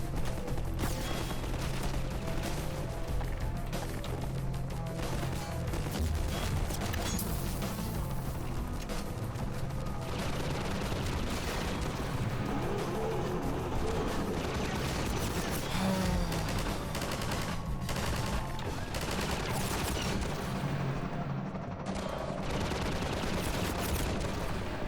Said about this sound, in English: Are the freaking ships shooting at me?